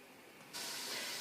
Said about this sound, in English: the onions are cooking in the sizzling coconut oil